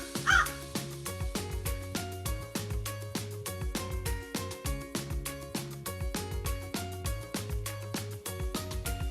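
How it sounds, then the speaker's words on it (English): A crow caws repeatedly over a bouncy background music track, the calls fairly clear against the steady rhythmic tune. "That sound comes from a crow."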